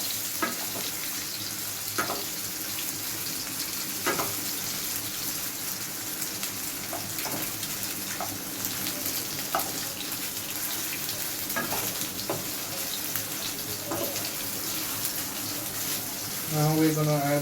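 Homemade masala sausages fry in a pan, a continuous bright sizzle with occasional stirring knocks and scrapes; talking is heard over the cooking and a brief burst of running water comes near the end.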